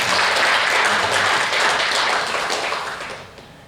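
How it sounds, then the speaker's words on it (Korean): A church congregation claps for its choir at a Sunday worship service, a short, full burst of applause that holds steady and then tapers off within about four seconds. "우리 한번 박수로 격려 한번 하겠습니다"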